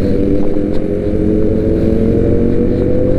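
Big bike motorcycles riding along a mountain highway, a loud continuous engine drone and wind rush close to the microphone, steady throughout with no talking.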